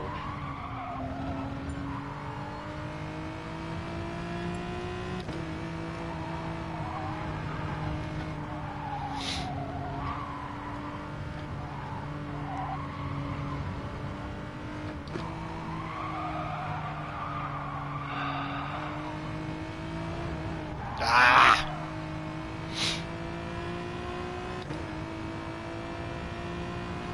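A Porsche race car in Gran Turismo 7 holds a steady engine drone with slowly shifting pitch for nearly half a minute, broken by a brief, sharp tyre squeal near the end, with no voices.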